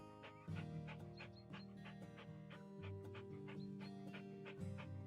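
Rex the dog pants in rapid, rhythmic breaths, quiet and close, over a steady musical background.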